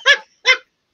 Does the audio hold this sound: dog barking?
yes